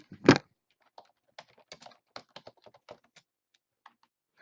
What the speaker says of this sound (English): Give me a few seconds, I'll type in that title.